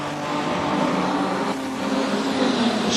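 Production sedan race car at Carina Speedway angling off the top of a corner onto the straightaway, engine droning steadily at close range with a sustained mid-pitched roar and no voices over it.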